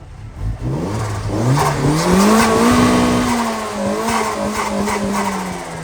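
A Mercedes C63 AMG engine revs hard, pitch climbing and holding in a loud, sustained roar with a few rises and dips, close by and without talk.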